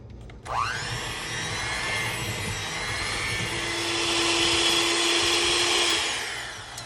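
Electric mixer whirring steadily at close range as it blends cream cheese with sugar, salt and vanilla for an eclair ice cream cake, starting abruptly and running continuously with a faint high whine.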